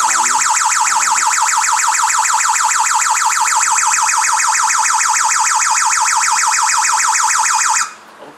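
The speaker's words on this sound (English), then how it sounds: "therefore to trigger the alarm." An alarm panel sounds after an infrared beam detector is blocked, a loud rapidly warbling electronic siren pulsing steadily for about eight seconds before cutting off abruptly.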